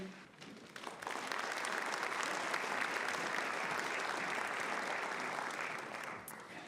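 Warm, steady applause from a seated audience at an evening Ivy Day ceremony welcoming the Cardinal Key orator to the lectern, swelling quickly and holding evenly before starting to fade.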